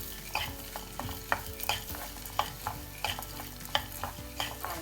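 Coriander seeds and dal roast on a medium flame for dhaniya podi while a spoon stirs them, giving repeated scraping clicks at an even rhythm over a soft, dry sizzle, close and fairly quiet.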